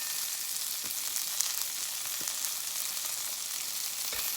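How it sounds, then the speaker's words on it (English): Onions fry in a steady, close sizzle on a portable 9-inch Blackout Stove during outdoor survival cooking, with a few soft clicks and faint scrapes over the constant crackle. "I'm gonna add my onions now. Get them cooking on the sides."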